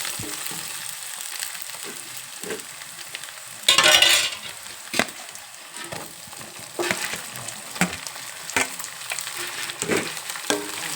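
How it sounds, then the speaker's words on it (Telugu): Onion and tomato frying in a pan for a cluster bean curry: a soft sizzle runs throughout, with sharper scraping stirs and clattering spoon taps scattered across it and one louder burst of spitting fat. No voices are heard. "మనకు ఉల్లిపాయ టమాటా బాగా వేగింది కదా"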